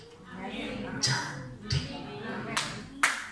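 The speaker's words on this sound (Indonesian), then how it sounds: "Tepuk tangan lagi." Congregation at a Jakarta church service clapping in a few loose, separate bursts, faint and spaced out, with talk underneath.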